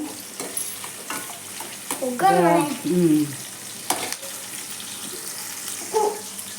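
Spices tempering in hot oil in a pan give a steady hiss, with a short voice breaking in briefly midway and occasional soft clinks.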